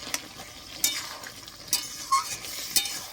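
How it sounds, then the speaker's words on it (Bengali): Big prawns and toral stirred in a pan, a spoon scraping and clinking against the metal in a few sharp strokes over a soft, steady sizzle. "একটু নেড়ে চেড়ে নেব"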